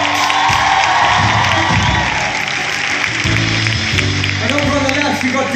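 Onstage at a concert in Madrid, a big crowd cheers and applauds the bassist in a steady roar, and voices and some instrument sounds come through toward the end.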